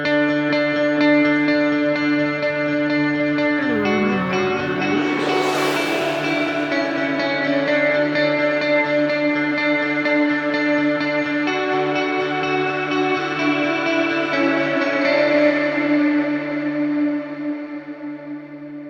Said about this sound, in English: This is like a crazy reverb delay plugin, which creates some epic soundscapes very easily.